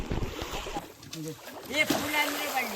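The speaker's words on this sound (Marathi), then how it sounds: "बालद्याने काम चालू केलं इकडे" Water being bailed out of a pool with a bucket during a Konkan fishing outing, nearby sloshing and splashes with dripping water while voices talk.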